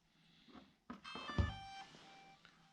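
A DJI Mavic Mini drone powering on gives a short series of tonal beeps with clear harmonic stacks, starting near the middle and trailing into softer chirps, close and fairly quiet.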